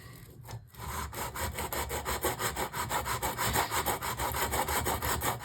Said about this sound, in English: We sand it down until it comes up against the edge of the metal.